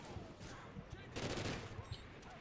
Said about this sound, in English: Yeah, I can just keep shooting.